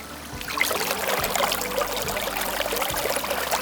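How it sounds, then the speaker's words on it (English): Water gushes steadily from a well pipe at a cabin in northern Sweden, splashing over a hand held in the flow; a loud, continuous rushing pour with no voices. "You can see if I hold my hand, then you can get an idea how much water it is."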